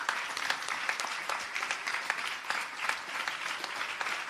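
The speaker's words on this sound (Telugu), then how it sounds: "ఒకసారి గట్టిగా చప్పట్లు కొట్టండి" An audience at a Sri Vishnu Purana discourse applauds, a steady burst of dense clapping lasting several seconds with no clear talking over it.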